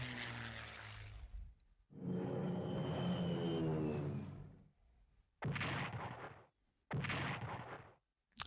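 Bombers attack Italian tanks in the World War II strategy game Strategic Command WW2, with a long roaring aircraft and explosion rumble followed by two short, loud bursts of gunfire or blasts separated by silence.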